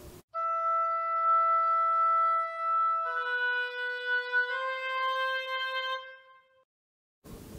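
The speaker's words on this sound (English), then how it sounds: "It's the sound of the oboe." Solo oboe playing a slow, sustained melody of a few long held notes stepping upward, clear and reedy, alone without voices.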